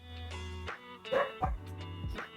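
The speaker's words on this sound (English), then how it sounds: "It's barking at someone." A dog barks and yips several times nearby, with whimpering, whiny tones between the barks and a clear, fairly loud sound close to the listener.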